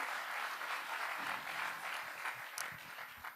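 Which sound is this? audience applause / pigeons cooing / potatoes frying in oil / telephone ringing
audience applause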